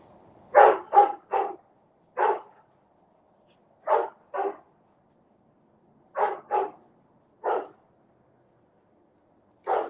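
A dog barks in a backyard, loud and close: about ten sharp barks, some in quick pairs, with brief silences between them and no talking.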